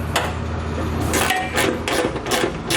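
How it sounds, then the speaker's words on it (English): Metallic clicking and clinking of a 3/4-inch socket and wrench tightening bolts, with lock washers, on a Roadmaster Direct-Connect base plate fitted to a 2019 Ford Explorer. The ratchet ticks repeat close up over a steady low background. "we're going to take a 3/4 inch socket and wrench, and we're going to tighten each of the bolts down"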